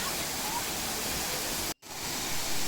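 Kothapalli waterfall pouring from above, a dense continuous roar of falling water, loud and unbroken except for a brief dropout partway through.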